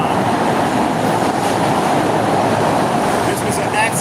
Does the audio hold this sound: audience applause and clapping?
no